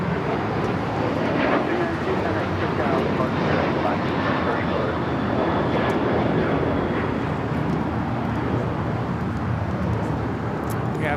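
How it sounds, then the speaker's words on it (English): British Airways Boeing 777-300ER coming in to land on the north side at LAX, a heavy jet's steady loud roar mixed with wind noise and a voice talking over it. "We have British Airways about to land there on the north side."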